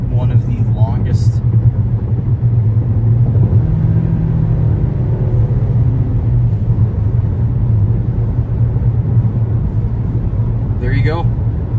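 A 2022 Toyota Corolla Cross with all-wheel drive drives on a highway on-ramp, heard from inside the cabin as a loud steady low engine and road rumble, with a voice speaking briefly near the start and end.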